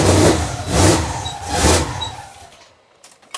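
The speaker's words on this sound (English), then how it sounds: "it's cranking, and it's starting" A 1500hp twin-turbo Mustang engine cranking in three loud rhythmic surges as the starter turns it over, then it catches briefly before fading, heard up close.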